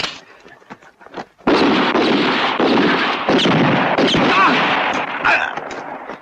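Gunfire in a western film: a loud volley of overlapping shots and blasts bursts in after a quieter opening and keeps cracking and booming close up, with a few scattered sharp reports.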